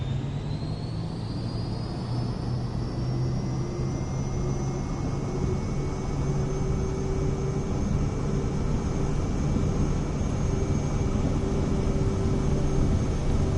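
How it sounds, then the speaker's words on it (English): A jet airliner with flaps set to 15 takes off in Microsoft Flight Simulator 2024: a steady, loud engine roar with a rising high whine builds continuously as it accelerates down the runway, with no talk. "Takeoff speed's about 100 knots, or it'll take off by itself."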